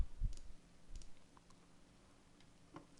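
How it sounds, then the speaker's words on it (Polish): A computer mouse gives a few faint, sharp clicks as a save button is pressed, spread out over a quiet room with a soft low rumble underneath. "Klikamy przycisk zapisz i ponownie odświeżamy stronę."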